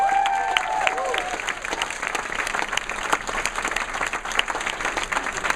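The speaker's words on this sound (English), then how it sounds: "Let's give a round of applause for all the fellows." An audience at a fellows' launch night pitch event claps in sustained applause, a dense patter of many hands close by that carries on steadily after a brief voice at the start.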